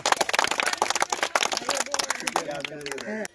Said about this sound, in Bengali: হাততালি দাও সবাই ছোট্ট করে একটা